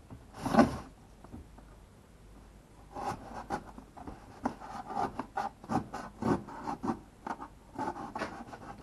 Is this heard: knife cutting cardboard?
yes